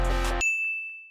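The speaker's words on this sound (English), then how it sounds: "So the second synth is from Serum, it's called Punk, and it's from the Alex Serum Bank" A brief, dense synth chord from the Punk preset in the Alex Serum Bank cuts off abruptly and leaves a single bright, bell-like high tone ringing alone and slowly fading.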